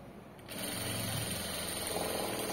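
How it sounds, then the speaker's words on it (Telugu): A sewing machine stitching cloth runs in a steady, continuous mechanical whir after a quiet start, close and fairly loud, with no voices over it. "ఇక్కడ కూడా నీట్ గా ఇలా స్టిచ్ వేసుకుంటూ వెళ్ళిపోవాలి."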